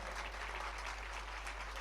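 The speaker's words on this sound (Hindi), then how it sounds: "तो मैं चाहता हूं एक बार उन दोनों विभागों के लिए आप ताली बजाएं पूरी मुस्तैदी के साथ।" Steady applause from an audience at a comedy poetry gathering in Barmer, Rajasthan, honouring the medical and police departments, a soft even wash of many hands clapping at a distance.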